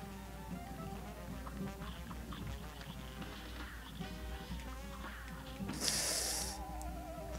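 Bullet bees in Cuphead's honeycomb boss fight: a steady insect-like buzzing under busy game music and effects, with a bright burst of noise near the end.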